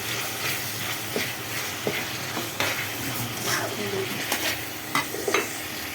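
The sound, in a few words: ginger garlic paste frying in oil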